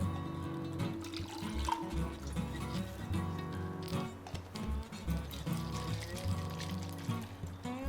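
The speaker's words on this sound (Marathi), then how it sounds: "थोडं पाणी घालूया." Water pours steadily into raw mango pulp, a continuous gurgling splash with small clinks of a container, close and fairly loud.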